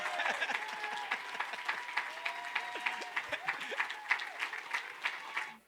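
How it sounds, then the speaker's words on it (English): Audience applause at a Torrance city council meeting honoring a 2023 CIF Southern Section championship team, a steady dense patter of many hands clapping in a hall for several seconds before fading out. "Actually, this is the time you're supposed to applause."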